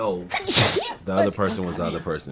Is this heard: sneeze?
yes